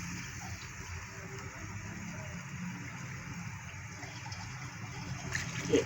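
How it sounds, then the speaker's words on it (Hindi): Two glasses of water pour into a cooking pot of fried tomatoes for an arvi and meat curry, giving a steady, moderately quiet gush and splash that lasts several seconds. "तो अब मैं इसमें पानी डाल दूंगी 2 गिलास।"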